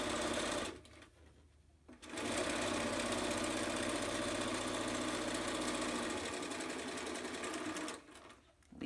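A sewing machine stitches fabric pieces for face masks on an assembly line, running in two long, loud, even bursts with a brief pause between them and no one speaking.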